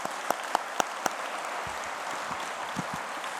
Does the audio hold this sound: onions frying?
no